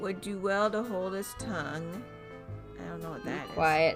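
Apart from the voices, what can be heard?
No everyday noise stands out behind the speech.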